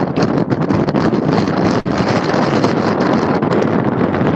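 Strong wind gusts outdoors at Corona Airport during a fire and roars hard across the microphone. It is a loud, constant, close rumble and buffet with one brief dip, and no one speaks.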